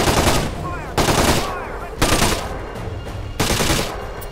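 Bursts of gunfire from the video game Splinter Cell: Conviction come in four loud, dense volleys about a second apart, each fading into a short reverberant tail, with faint voices underneath.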